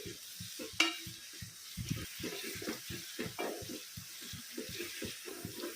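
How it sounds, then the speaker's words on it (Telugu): Onions are stirred and fried in a pan for biryani, close repeated scraping strokes in a steady rhythm over a constant sizzle, with a brief metallic clink early on and no talking. "ఇలా ఈవెన్గా కలుపుతూ ఫ్రై చేస్తేనే మనకి ఆనియన్స్ అనేవి ఒకే తరహాగా గోల్డెన్ కలర్లో ఫ్రై అవుతాయి"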